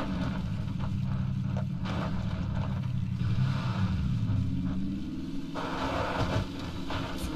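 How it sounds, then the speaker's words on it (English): Car engine droning while driving in the video game PUBG, a low rough rumble that rises in pitch as it accelerates, steady and moderately loud throughout with a brief brighter burst of noise late on. "This car sounds like ass."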